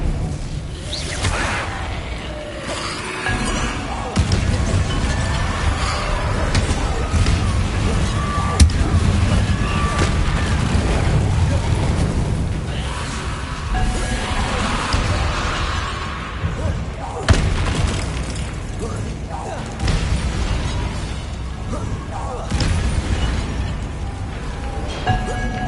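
Spell effects from the Hogwarts Legacy video game, with Incendio fire blasts and Confringo explosions, arrive as dense, repeated whooshes and booming bursts that fill the whole stretch without letup.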